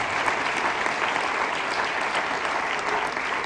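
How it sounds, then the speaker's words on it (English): A crowd at a Dr. Martin Luther King Jr. leadership event gives a steady round of applause, dense and even throughout with no pauses, heard alone without talk. "Come on, give us a round of applause."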